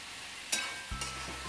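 A spoon briefly stirs dry Maharashtrian tomato sabzi sizzling in a pan after salt goes in, a couple of close scraping strokes over a soft frying hiss.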